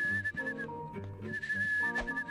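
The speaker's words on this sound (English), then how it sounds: "stop whistling" A girl whistles a wavering, tuneful melody in the video game Rule of Rose. The whistle is clear and close, broken by short pauses, over a quiet backdrop.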